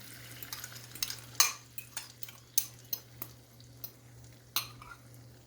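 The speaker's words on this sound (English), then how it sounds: "I'm going to go ahead and put these 2 eggs into the pan." Two eggs poured into a hot pan for an omelet give a soft, steady sizzle, broken by a series of light, sharp utensil clicks and taps against the pan at irregular intervals, fairly close and quiet.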